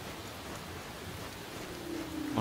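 Steady rain falling in the Cyberpunk 2077 video game, a soft continuous hiss of drops that swells slightly toward the end, with a faint tonal hum running under it.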